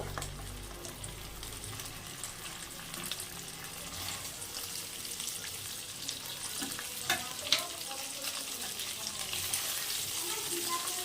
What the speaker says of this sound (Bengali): মাছ ভাজা হয়ে গেছে এবার মাছগুলো তুলে নেবো